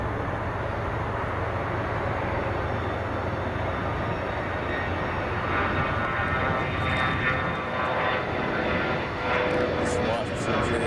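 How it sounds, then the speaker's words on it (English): A continuous low roar of airplane engines at Chicago O'Hare International Airport, steady and fairly distant, with faint voices underneath. "enjoy the sky, listen to the airplanes"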